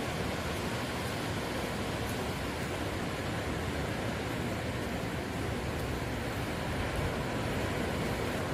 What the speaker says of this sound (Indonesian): Dentuman ombak yang menderu-deru